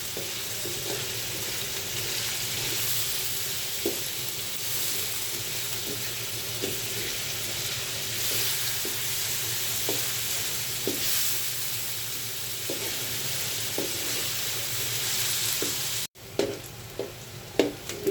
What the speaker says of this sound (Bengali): পেঁয়াজটা ভালোভাবে তেলের উপর একটু ভেজে নিচ্ছি।